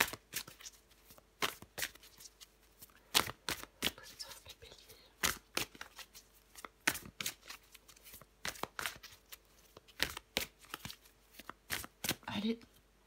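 Tarot cards are shuffled in quick, crisp riffles and slaps, close and fairly soft, repeating in bursts with brief pauses, while someone speaks quietly in between.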